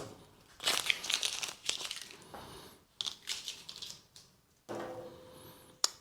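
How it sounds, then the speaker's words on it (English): Adhesive tape peels away from a 3D-printed test piece in several crackling, tearing pulls, close up, with short pauses between strips and no voices. "We'll remove the tape to make it a little easier to see"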